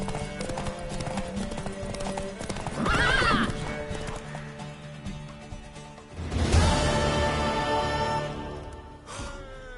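A horse in The Witcher 3: Wild Hunt, with brisk clip-clop hoofbeats running under two loud whinnying neighs and snorting breaths, close and clear.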